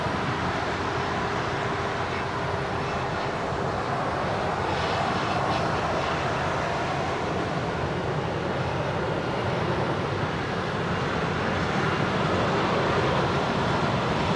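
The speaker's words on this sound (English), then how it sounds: "737 MAX 9 making her way over to 25 right." A United Airlines Boeing 737 MAX 9 taxiing at LAX toward runway 25 right, heard as a steady, loud, broadband jet engine roar that holds for the whole stretch with no talking.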